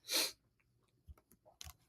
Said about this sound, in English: Had to just take a quick sneeze.